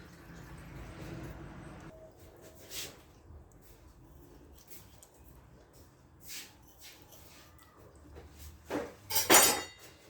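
A kitchen knife cuts slits into a raw chicken breast before marinating it for rotisserie shawarma, with scattered light clinks and taps against a quiet room, the sharpest cluster near the end.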